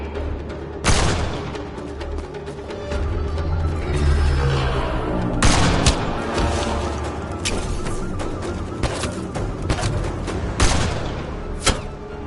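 Gunfire in Mass Effect Andromeda rattles in close, loud bursts and single sharp shots, several heavy cracks spaced through a continuous din of impacts and rumbling thuds.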